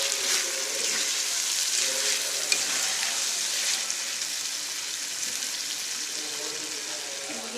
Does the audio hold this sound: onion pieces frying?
yes